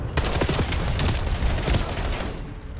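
Video game gunfire in a shooter match, a dense rapid burst of shots and impacts filling the whole stretch, loud and continuous with no talk.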